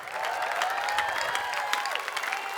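Steady applause from a studio audience at an Indonesian televised comedy festival, a dense continuous wash of clapping filling the whole stretch at an even, fairly loud level with no voices on top.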